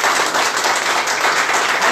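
An audience at a church gathering claps and applauds to welcome a pastor, a dense, steady burst of many hands, loud and close, lasting the whole moment without a break.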